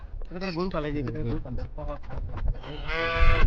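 Cattle on a large grazing farm in Mongolia low in drawn-out, close calls that rise and fall, over a steady outdoor background.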